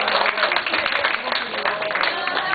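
At a family first-birthday party, guests give a steady round of applause throughout, moderately loud, with faint voices mixed in.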